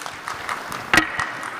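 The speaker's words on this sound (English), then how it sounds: "Big round of applause, ladies and gentlemen." Audience clapping at the close of a talk at a tech conference, a steady patter of hands at moderate level with a brief louder burst near the middle and no speech over it.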